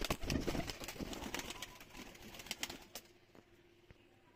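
Pigeons coo softly in a loft, with low, rolling calls under faint rustling and a few distant knocks before the sound drops to quiet.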